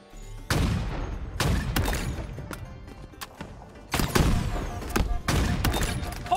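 Loud, booming blasts from a Redgear shotgun in a video game: several heavy shots spaced a second or two apart, each with a sharp crack and rumbling tail, amid ongoing game noise.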